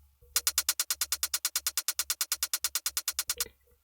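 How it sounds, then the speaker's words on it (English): A rolling psytrance hi-hat pattern programmed in FL Studio ticks in a fast, even stream of crisp bright hits over a low pulsing bass, running steadily for about three seconds before stopping. "you can hear you have a rolling hi-hat"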